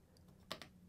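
A couple of sharp keystrokes on an external keyboard hooked to a Samsung phone running DeX, two quick clicks close together in a quiet room.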